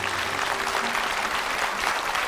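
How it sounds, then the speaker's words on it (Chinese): A television studio audience claps steadily for mural restorers, a dense, even wash of applause filling the hall without a break. "让我们一起把掌声给这几代的修复人。"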